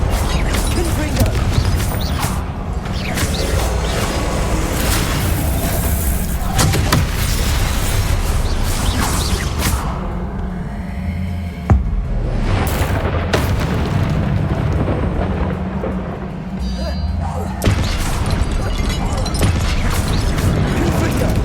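Repeated explosive blasts from the Confringo spell in a Harry Potter video game, dense booming bursts layered with crashing effects and shouted spell names throughout, loud and continuous with a brief lull mid-clip.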